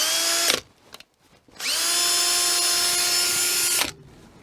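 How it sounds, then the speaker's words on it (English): A power drill whines at high speed while drilling under a house during an HVAC vent installation, with a short burst first, a pause, then a longer steady run that cuts off abruptly. "what I've done is I've drilled"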